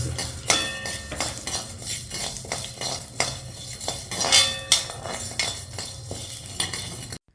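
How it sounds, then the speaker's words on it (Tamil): Urad dal roasting in a little oil while a spoon stirs it, giving a steady run of metallic scrapes and clinks against the pan, close and clear with no talking. "இப்போ உளுந்தம்பருப்பு ப்ரௌன் ஆகிற வரைக்கும் நம்ம வறுக்கணும்"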